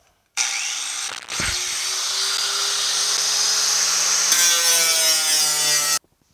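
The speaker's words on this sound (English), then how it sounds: "So I'm going to hit it with the hard wheel first and then hit it with a flapper disc" A loud, steady high-pitched grinding whine runs for about six seconds, a hard abrasive wheel biting into metal on a 1965 Chevelle Malibu SS, with a brief dip near the start.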